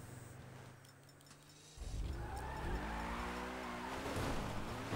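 A car in GTA Online idles with a low engine hum, then revs hard and pulls away with a brief tire squeal, the engine note rising and staying loud.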